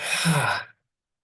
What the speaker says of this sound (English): let's take a deep breath together. Exhale.